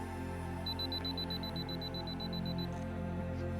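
A camera self-timer emits a rapid series of evenly spaced high electronic beeps for about two seconds, faint over a steady low hum, then stops.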